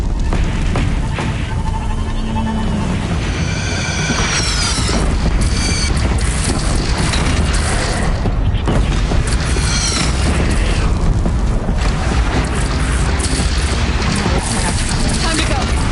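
Cannon fire during the Meridian battle in Horizon Zero Dawn booms repeatedly inside a dense, loud wash of combat noise, with heavy blasts and mechanical clatter layered throughout.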